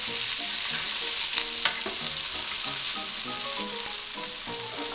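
Rabbit pieces sizzle and fry steadily in a pan with garlic and herbs while being stirred, with a constant loud hiss and scattered clinks of the utensil moving the meat around.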